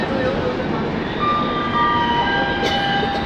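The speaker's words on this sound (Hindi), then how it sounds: "ये गरीब रथ एक्सप्रेस जा रही है।" The Garib Rath Express passing through an Indian station, a steady close rumble of wagons and wheels with thin high squeals drifting over it and a brief clank near the end. Someone speaks faintly underneath.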